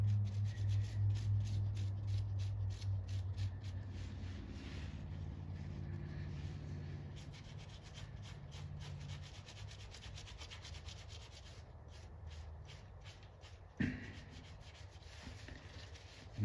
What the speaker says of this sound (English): I just have some more lacquer thinner on my rag and I'm just scrubbing the top surface only